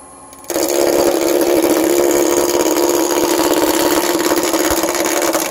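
A wood lathe turning a honey dipper at about 1,000 RPM starts abruptly and runs as a loud, steady motor drone with a constant buzzing whine and no breaks.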